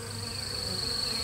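Honeybee swarm in a swarm trap, a dense, continuous close buzz with a steady high whine, frantic activity holding at an even loudness throughout.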